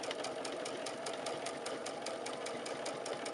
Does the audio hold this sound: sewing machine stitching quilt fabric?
yes